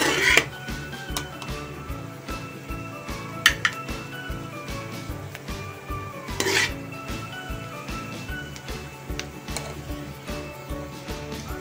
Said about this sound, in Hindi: तो अब हम इसको डिश में निकालते हैं।